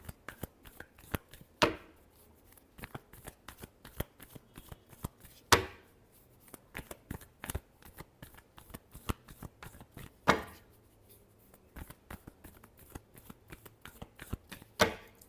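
Tarot cards are shuffled in a quiet room, a steady patter of soft riffling clicks broken by a few sharper bridging snaps, close and fairly faint.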